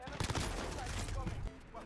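Rapid automatic gunfire in the shooter Modern Warfare, a dense volley of close, punchy shots crackling for over a second and then breaking off, with a player talking over it.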